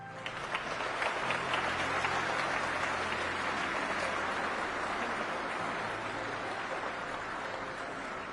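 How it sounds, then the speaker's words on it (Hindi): Thunderous applause fills an award hall at a Padma Shri ceremony, a broad, even roar of many hands clapping that holds steady without a break. "पूरा हॉल तालियों की गड़गड़ाहट से गूंज रहा था"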